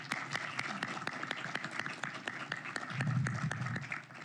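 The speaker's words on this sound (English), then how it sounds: "To our guests, let's give them a round of applause." Audience applause for panel guests at a policy discussion on naval bases, steady dense clapping throughout, swelling slightly near the end.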